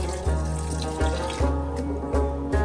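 Water is poured from a glass into a cooking pot of beef karahi, splashing in a few separate bursts at an irregular rhythm, close and moderately loud.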